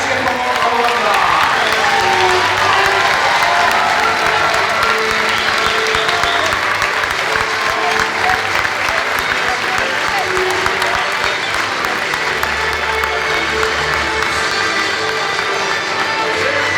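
Sustained applause from a large crowd at Madison Square Garden honoring Iona basketball alumni, dense and steady throughout, with occasional cheers mixed into the clapping.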